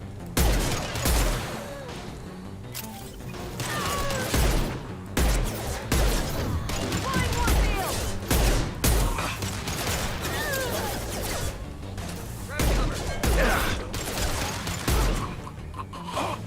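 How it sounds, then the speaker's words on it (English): High impact shots fired in the Mass Effect video game, a dense run of loud rapid gunshots and bursts with booming low thumps repeating throughout, with brief gaps between volleys. "Firing a high impact shot."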